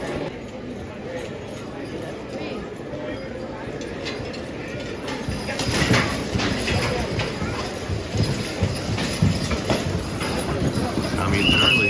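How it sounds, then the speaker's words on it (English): A team of farm horses pulls a heavy load at a horse-pulling event, hooves thudding and clopping unevenly at close range, growing louder midway, with chains clinking and an announcer talking over it. "Tommy and Charlie doing what Tommy and Charlie do, crossing a big load."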